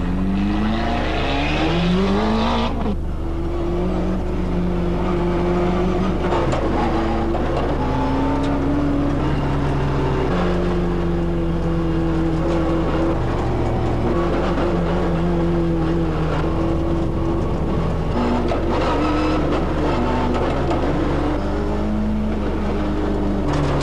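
A rally car engine runs through final tests before the 1993 Tour de Corse, a loud close drone that revs and settles with shifting pitch over a constant deep hum, no voices.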